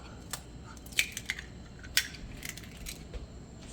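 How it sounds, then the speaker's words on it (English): An egg cracked into a bowl, a couple of sharp, close taps and a crunchy crack of shell over a quiet room. "crack the egg in a bowl"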